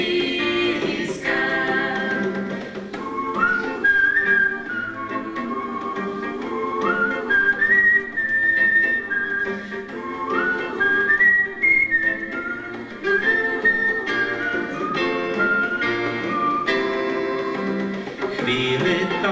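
A person whistles a melodic tune continuously, the notes sliding and repeating in phrases, clear and close with no talking.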